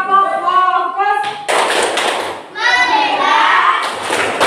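A school class of pupils does the rhythmic 'tepuk fokus' clapping routine, with bursts of quick group hand claps alternating with children chanting along in unison, close and lively.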